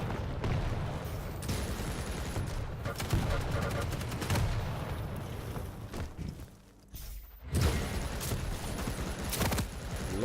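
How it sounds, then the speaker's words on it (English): Rapid nail gun fire in a video game duel comes as dense bursts of repeated sharp shots over a busy game soundscape, with a short lull before the firing resumes loudly. "A lot of nail gun coming out."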